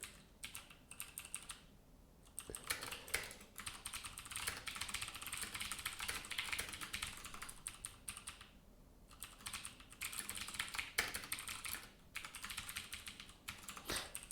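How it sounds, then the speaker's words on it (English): Rapid, steady typing on a computer keyboard, close and fairly quiet, with dense clicking runs broken by brief pauses. "all of a sudden I'm typing again."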